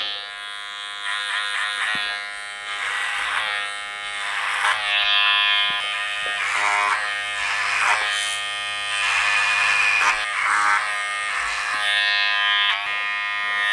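Electric hair clippers buzz steadily while cutting curly hair over a comb in a clipper-over-comb taper haircut, a close, continuous whine that swells and dips as the blade moves through the hair, with no talking.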